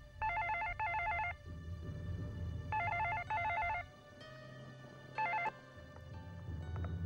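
A telephone bell rings in three bursts of rapid double trills, loud and close, with a low background hum and faint room noise between rings.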